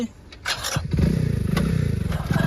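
A motorcycle ridden by a learner: the engine catches after a couple of thumps, then settles into a steady, close idle-to-low rev putter that holds to the end, with voices talking over it.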